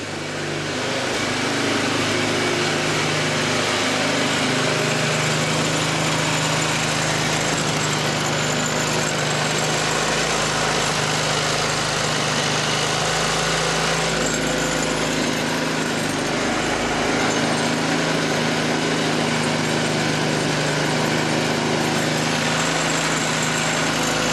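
A small snow blower engine with a freshly adjusted carburetor runs loudly and steadily nearby, a continuous droning roar that holds without pause throughout.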